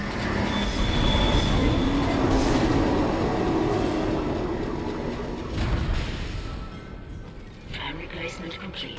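A tram arriving on rails in the sci-fi horror game Dead Space, a loud, continuous rumbling roll with metallic squealing that swells, holds, then eases off near the end.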